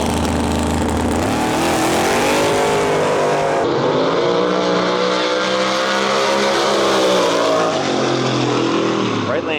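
Drag racing cars roar down the lanes in a sustained, loud engine howl that shifts in pitch as they accelerate, with an announcer talking over the noise.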